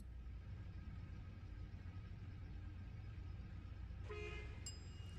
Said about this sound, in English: If you really want to honk at me, I have a horn too